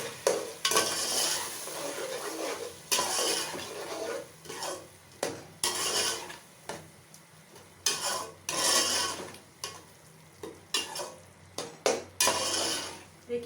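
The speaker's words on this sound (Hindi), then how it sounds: "फिर हम इसको अच्छी तरीके से मिक्स कर लेंगे।" Spaghetti mixed with soy sauce in a pan, stirred in repeated scraping bursts of utensil against metal with a soft sizzle underneath, close and moderately loud, no voices.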